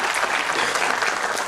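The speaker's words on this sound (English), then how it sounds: "can we hear a bigger round of applause" Dense, even applause fills the hall as a summit audience in Pune claps for a panel, a short unbroken burst of many hands.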